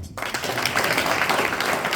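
A crowd at the Buganda Bumu European Convention in London claps loudly in a dense, continuous burst of applause that fills the hall for a couple of seconds.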